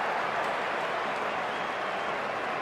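A packed cricket stadium crowd in Sydney roars during a tense ODI finish, a loud, continuous wash of cheering with no breaks.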